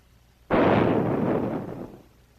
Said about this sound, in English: a 30-gallon copper tank exploded when a water hammer condition was created